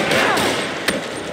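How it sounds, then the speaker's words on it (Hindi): Gunfire in the video game Marvel's Spider-Man Remastered, a loud burst with a sharp crack near the end over dense game sound. "कोई गोली चला रहा है या दूसरा अटैक करने का कोशिश कर रहा है"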